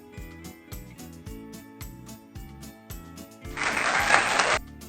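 Children in a preschool speech lesson about winter clap their hands in a brief burst near the end, over steady background music with a low rhythmic pattern.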